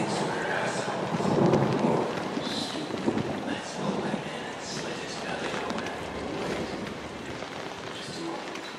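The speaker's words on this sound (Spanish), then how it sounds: "Mira cómo está lloviendo, qué pasada. Los truenos, ¡buah! Tremendo." Heavy rain pours steadily in a horror video game thunderstorm, with low rumbles of thunder rolling beneath, while someone talks over it throughout.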